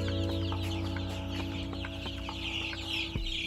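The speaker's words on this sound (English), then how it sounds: "This is a chick right here." Chicks cluck at a petting zoo at a fair, with soft repeated clucks and chirps close by over a steady mechanical hum.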